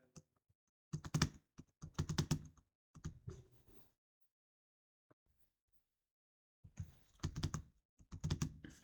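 Computer keyboard typing in quick clustered bursts of keystrokes, close and fairly quiet, with a few pauses of silence between runs while entering text into spreadsheet cells.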